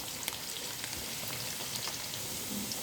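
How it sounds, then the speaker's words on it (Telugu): Onion and green chili pieces fry in hot oil in a pan with a continuous dense sizzle and scattered small pops and crackles, steady and close. "ఉల్లిపాయ ముక్కలు, పచ్చిమిర్చి ముక్కలు ఆయిల్లో ఫ్రై అవ్వాలి."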